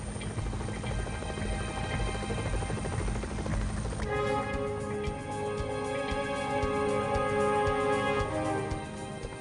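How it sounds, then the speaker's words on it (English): A helicopter's rotor thumps and engine whine fill the whole clip, loud and continuous, with a steady rhythmic chop throughout, heard from the outside of the helicopter near a high-voltage power line. "riding on the outside of a helicopter"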